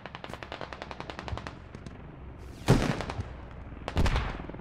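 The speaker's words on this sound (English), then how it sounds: "I think these guys are getting shot up from the farmhouse." Rapid bursts of automatic rifle fire rattle in the video game Squad, followed by two heavier, louder blasts, with distant shots echoing across a farmhouse battlefield.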